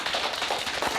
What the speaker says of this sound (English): Let's give Charlie a clap.